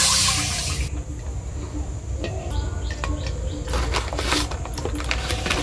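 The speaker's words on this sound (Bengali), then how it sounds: "এবার জল দিয়ে দিলাম।" Water rushes into a cooking pot for boiling eggs in a home kitchen, a brief loud splashing pour at the start followed by quieter clinks and faint kitchen noise.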